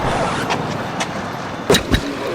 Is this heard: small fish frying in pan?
no